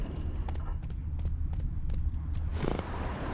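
Roach, a horse in The Witcher 3, clip-clops along at a steady walking pace, each hoof fall a crisp distinct knock over a low ambient rumble, ending in a brief swell of noise.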